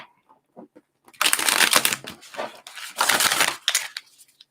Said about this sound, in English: I'm going to go ahead and shuffle this one pretty good.